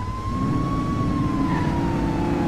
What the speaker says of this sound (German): Sirene anmachen.